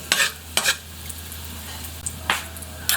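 Garlic and onion are stirred into a pan with toasted ginger, giving a soft, continuous sizzle broken by four or five brisk scraping strokes of a utensil, close and fairly loud, with no one talking.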